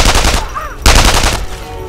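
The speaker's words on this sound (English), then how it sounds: "One more shot, damn it. My poor MP40." MP40 submachine gun firing in Sniper Elite 3, loud close bursts of rapid shots, a brief break, then another sustained burst trailing off.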